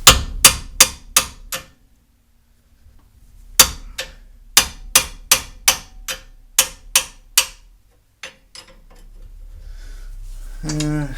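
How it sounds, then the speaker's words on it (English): Hammer blows on a tight bolt during a second-generation F-Body front end rebuild, sharp metallic strikes in quick bursts of four to six, loud and close, with pauses between runs and faint noise at the end. "So I'm gonna try to break it with a hammer."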